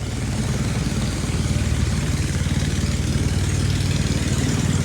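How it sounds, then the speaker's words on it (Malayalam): An outboard engine on a small cockle-collecting boat in Kerala chugs steadily after starting, a loud, even low throb running unbroken throughout with no talk over it. "എൻജിൻ സ്റ്റാർട്ടാക്കി നമ്മളെ വള്ളം പുറപ്പെട്ടു"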